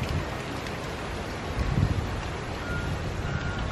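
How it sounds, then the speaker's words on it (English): Steady wind roars and buffets the microphone outdoors, a constant rough rush with a brief stronger gust midway. "It's very windy out here."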